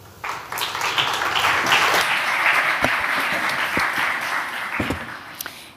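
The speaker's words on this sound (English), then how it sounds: "So without further ado, a round of applause for Maja Pantic." Audience applause for a speaker being introduced at a conference festival talk, a steady wave of clapping from a seated crowd that rises, holds, then tapers off.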